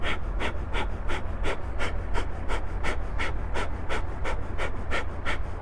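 In Kundalini yoga practice, a person breathes in quick, forceful, evenly spaced pulses driven by the abdomen, about two per second, close and continuous over a low background rumble.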